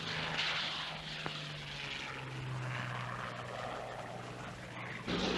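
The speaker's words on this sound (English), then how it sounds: "aircraft which had been brought by ship from Britain and reassembled on the Rock were flown off to Tunisia" A WWII propeller aircraft, flown from Gibraltar to Tunisia after being shipped from Britain and reassembled, drones steadily overhead with a faint, sustained engine hum that shifts slightly in pitch as it passes.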